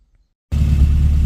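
An MGB car engine idling after silence, a steady low rumble that comes in abruptly and holds close and loud.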